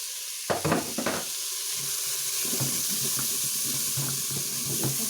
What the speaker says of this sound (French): Je vais rajouter l'eau, donc 100 ml d'eau.